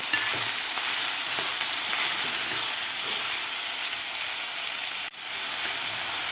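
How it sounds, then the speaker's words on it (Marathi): Green beans, capsicum and other vegetables sauté in hot ghee for a bmillet khichdi, giving a steady, close sizzle and hiss that runs unbroken. A brief dip near the end suggests the pan being stirred or moved. "भाज्यासुद्धा आपल्याला एक मिनिटभर व्यवस्थित परतून घ्यायच्या आहेत ह्या तुपामध्ये"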